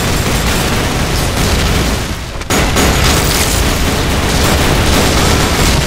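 A frag grenade goes off in the shooter game Repulse amid constant loud gunfire and battle noise, with a brief dip in the din before the roar resumes at full strength.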